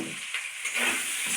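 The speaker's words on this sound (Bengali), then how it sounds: "ভালো করে মশলাটাকে কষে নেব।" Spices with turmeric powder and salt fry in a pan while a fish curry is made, giving a steady close sizzle and hiss with small crackling bursts and no talk.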